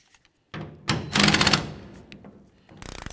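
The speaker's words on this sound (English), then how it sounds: "Remove those using a 13 millimeter socket." A socket wrench loosens 13 mm tailgate bolts on a 1999-2006 Chevy Silverado, a close burst of metallic clicking and scraping followed by a quick ratcheting rattle at the end.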